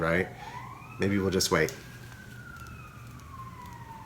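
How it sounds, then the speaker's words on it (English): A siren wails in the distance in a big city, its pitch sliding up and down, while a person speaks briefly over it. "I'm sorry if you can hear sirens in the background."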